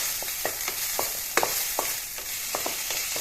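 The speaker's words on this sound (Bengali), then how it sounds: "এতিয়া ইয়াত মই আদা নহরু পেষ্ট দি ল'ম অলপ ভাজি এনেকৈ" Ginger-garlic paste frying in a pan for an Assamese dish, a constant close sizzle punctuated by rhythmic taps and scrapes of a spoon stirring against the pan.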